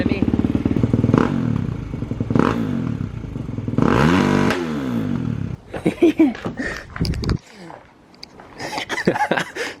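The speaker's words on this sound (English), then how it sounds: "All right, a couple revs before the neighbors get mad at me." A 2021 Kawasaki KX450X dirt bike fitted with a new FMF 4.1 RCT exhaust is revved in place: several loud, close, rising and falling throttle blips, followed by a voice speaking.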